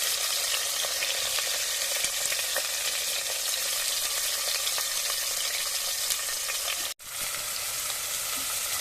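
Onions frying in a pan for a tomato chutney, giving a loud, dense, continuous sizzle close up, with a brief break near the end before the hiss resumes.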